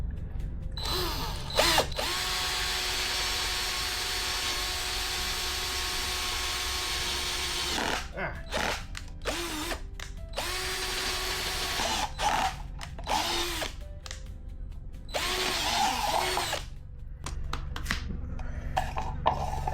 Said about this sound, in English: Maybe I'll just drill one.